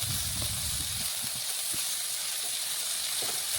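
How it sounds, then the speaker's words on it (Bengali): Pieces of pointed gourd (potol) frying in oil on low heat, a steady close hiss and sizzle with a few faint low knocks and no voice. "পটলগুলো ভাজতে একটু সময় লাগবে,"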